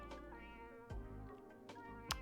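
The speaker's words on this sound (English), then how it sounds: "Watch the clip of my cats destroying all of my hard work." Pet cats meow in a quiet room, a few soft, drawn-out calls spread across the moment with a sharper cry near the end, no one talking.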